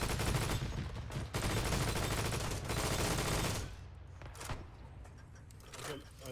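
Sustained machine gun fire rattles continuously in Arma 3's World War II setting, dense and loud at first, then breaking into scattered sharper shots and distant bursts.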